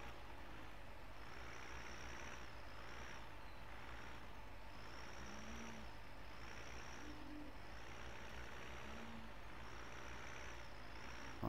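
A tractor reverses in Farming Simulator 2015 on the Bergmoor map, with a steady, loud engine drone and faint, regularly repeating reversing beeps running throughout.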